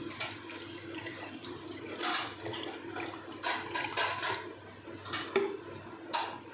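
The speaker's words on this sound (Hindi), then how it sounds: "ये 2 अदद गिलास है पानी के, ये मैंने बोतल में डाल लिए थे, ये इसमें जाएंगे" Two glasses of water are poured from a bottle into a blender jar for falsa juice, giving a steady splashing, gurgling pour with a few louder surges and glugs, close and moderately loud, with no talk.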